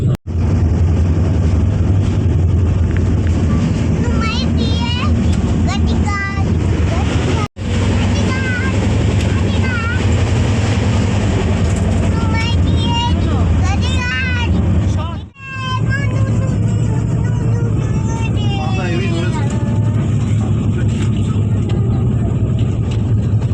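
Inside a moving train, a loud, constant rumble of travel noise fills the whole stretch while people talk over it.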